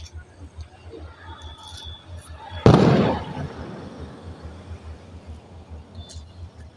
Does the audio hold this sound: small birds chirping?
no